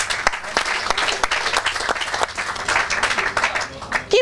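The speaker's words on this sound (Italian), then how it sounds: "facciamo un grande applauso anche a Mattia Arduini" Crowd applause for a player at a football club's season presentation, with individual claps standing out over a busy, uneven patter that swells and fades across the room.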